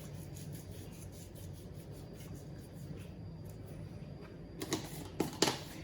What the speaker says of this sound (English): And I like to grind it in my fingers like so.